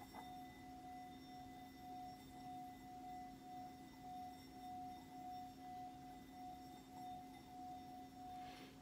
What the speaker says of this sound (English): And this is a singing bowl.